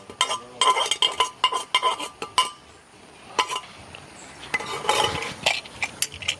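Cooked lentils being stirred into jaggery syrup in a pan, heard as loose clusters of spoon clinks and scrapes against the metal pan, brief bursts with quieter gaps between, fairly close and with no one talking.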